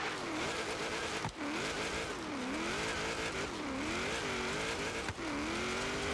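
In a video game, a 1995 Chevrolet Corvette ZR-1 races a hill climb time attack. The engine drones loud and close, its pitch rising and falling with quick gear changes, with brief tire squeals and no voices.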